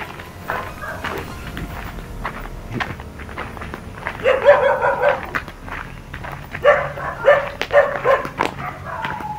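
Several dogs barking in two loud bursts at close-to-mid distance outdoors, with background murmur and footsteps between the barks.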